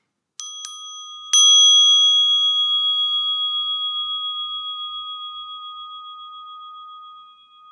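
A temple bell at the Suryukjae water-and-land Buddhist rite at Jingwansa in Korea is struck a few light times, then rung once firmly, its clear pure tone lingering and slowly fading for several seconds in otherwise silent surroundings.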